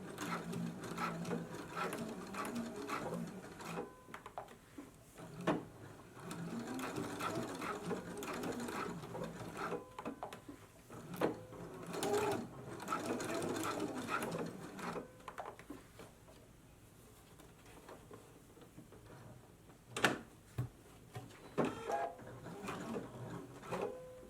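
A sewing machine stitches closed the elastic casing on a summer dress, running in steady mechanical bursts with short pauses and a few sharper clicks between runs, close and clear with no talking.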